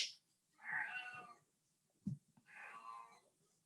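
A pet cat meows twice in drawn-out, complaining cries indoors, with a short soft thump between the calls; fairly close and clear, no talking over it.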